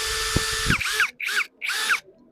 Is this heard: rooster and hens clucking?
no